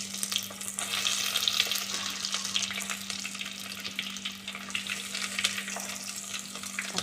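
Sliced onions and curry leaves fry in hot oil for a mango fish curry, giving a steady, dense sizzle with small crackles and a low constant hum, and no voices.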